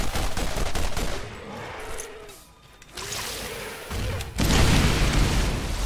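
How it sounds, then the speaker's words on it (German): Gunfire and grenade explosions in the video game Borderlands, with dense bursts of shots, a brief lull, then a loud, broad blast near the end. "Eine Granate."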